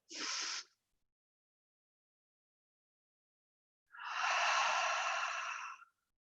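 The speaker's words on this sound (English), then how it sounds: "Use the exhale to produce energy for the inhale." Deep breaths during floor-work mat yoga: a brief exhale, a pause of about three seconds, then a long, steady, airy breath lasting nearly two seconds, close and clear with no talk.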